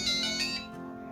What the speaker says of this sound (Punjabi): Amandeep the phone